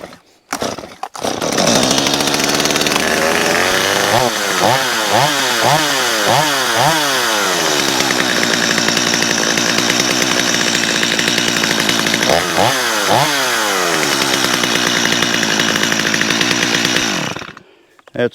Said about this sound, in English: That's a fantastic running saw.